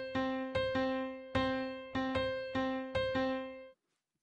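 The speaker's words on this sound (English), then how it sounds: "our 3 against 4 polyrhythm, which sounds like this." A 3 against 4 polyrhythm played on a bright plucked, pitched instrument, two interlocking pulse streams of ringing struck notes in a steady cycle, clear and close, ending with silence.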